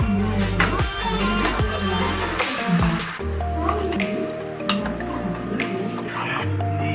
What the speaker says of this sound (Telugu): చికెన్ అనేది బాగా మిక్స్ చేసుకోవాలి ఫ్రెండ్స్.